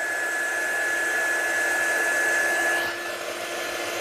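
A hair dryer blows over a freshly inked watercolour card, a loud, close, steady whooshing whir that holds for a few seconds and then drops slightly in pitch and strength near the end, with no voices.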